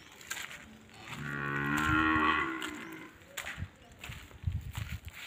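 A pregnant dairy cow on a farm in Idikarai, Coimbatore, gives one long, loud moo near the microphone, swelling and then fading, followed by soft shuffling and faint knocks.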